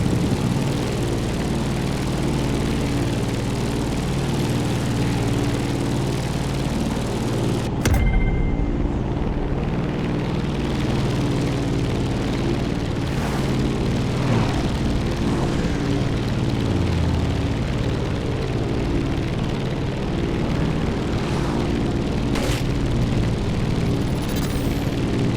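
An aircraft engine drones steadily in flight in The Crew Motorfest, a loud continuous propeller hum with a sharp shift in pitch early on, then an unbroken roar with faint whooshes.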